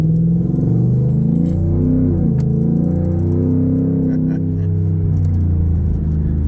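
A race truck rumbles and pulls away on the road with a loud exhaust, a deep continuous drone with shifting pitch as it accelerates, close and heavy with no talk.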